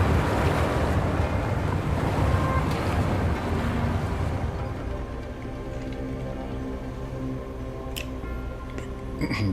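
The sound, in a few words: water draining in Wuthering Waves water temple, video game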